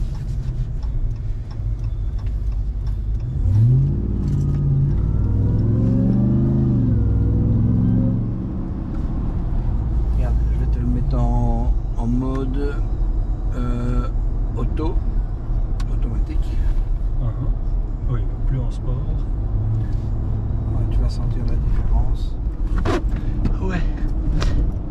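Inside a Dodge RAM TRX pickup truck, the engine revs up with a rising tone as it accelerates, then settles into a steady drone while people talk in the cabin.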